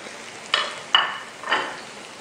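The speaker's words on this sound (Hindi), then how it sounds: "फ्राइंग पैन में मैंने ऑयल गर्म करने के लिए रख लिया है। फिर अब फ्राई करते हैं।" Net-patterned kebabs frying in oil in a frying pan: three short bursts of sizzling or scraping at an even pace over a quiet hiss, with no voices.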